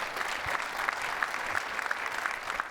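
An audience at a SXSW 2018 conference session applauds, a dense, steady clapping from many hands that holds evenly throughout.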